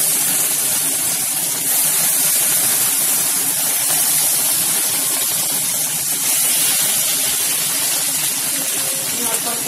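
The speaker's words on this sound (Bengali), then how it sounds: "ভালোভাবে ফ্রাই করে দিচ্ছি" Pieces of rohu fish fry in very hot oil sprinkled with a little salt, giving a loud, dense, continuous sizzle that holds steady throughout.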